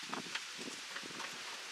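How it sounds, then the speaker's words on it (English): Wind gusting outdoors across a microphone during a Pit Boss pellet grill control board replacement, a steady broadband rush with soft buffeting and faint rustles, and no clear speech. "I apologize for all the wind"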